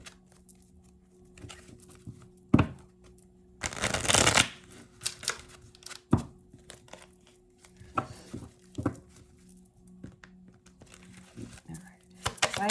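A clarifying deck of oracle cards is handled and shuffled at a tarot reading, giving a loud burst of riffling and scattered sharp card slaps and taps amid a quiet room hum.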